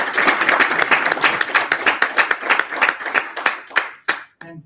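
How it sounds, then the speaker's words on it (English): Conference audience applauding speaker Ayush at CityJS New Delhi, dense close clapping that thins into scattered claps and fades out in the last second. "Please, a huge round of applause for Ayush."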